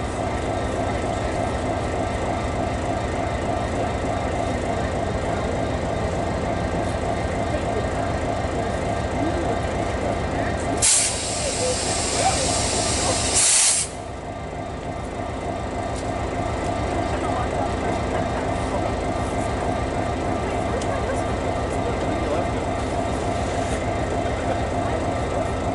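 The CP Holiday Train, led by CP 2246 locomotive, leaves Wauwatosa, Wisconsin, with steady rail rumble throughout and a brief louder hiss-like burst in the middle.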